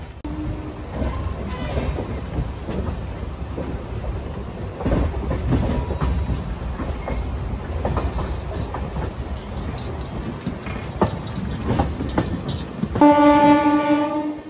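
A passenger train rumbles and clatters along the tracks nearby near Samalkot Junction, wheels rattling steadily, and a horn sounds near the end.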